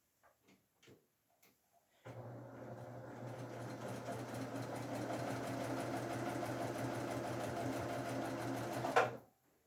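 A sewing machine chain piecing quilt rows starts after a few soft taps and runs as a steady, close mechanical whir with a fine rapid ticking for about seven seconds, then stops abruptly.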